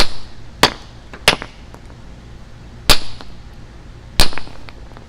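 Four sharp hammer blows strike a geode, spaced irregularly and loud and close, each with a brief ringing crack and quiet in between.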